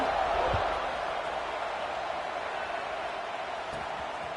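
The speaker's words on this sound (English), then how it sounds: "this crowd is buzzing after that last score" A football stadium crowd buzzing after a score, a broad, steady roar of many voices at a distance, holding at a constant level throughout.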